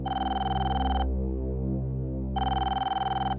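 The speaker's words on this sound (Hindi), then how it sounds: "फोन बज रहा।" A telephone rings, two loud electronic trilling bursts separated by a pause, over a steady low background hum.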